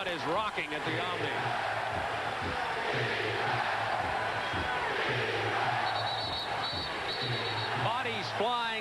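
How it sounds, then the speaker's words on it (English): A packed crowd at the Omni during a 1988 NBA playoff game between the Atlanta Hawks and Boston Celtics, a loud, steady roar of cheering with sneaker squeaks and bouncing balls, and commentators talking over it. "This crowd is rocking at the Omni."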